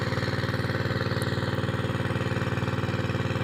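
A six-horsepower engine drives a water pump, chugging in a steady, rapid, even rhythm close by with no talk over it.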